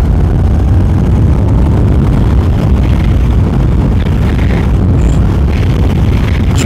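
A 2021 Honda NC750X motorcycle engine accelerates on the road during a test ride, a loud, steady low roar mixed with heavy wind rush and no speech.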